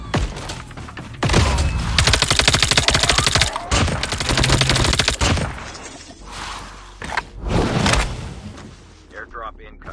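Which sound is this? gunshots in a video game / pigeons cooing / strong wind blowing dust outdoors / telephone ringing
gunshots in a video game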